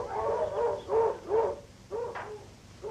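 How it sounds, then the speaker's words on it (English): Dogs bark in a film scene, a handful of muffled, moderately distant yelps in two short clusters over a dull low rumble. "Why are the dogs barking?"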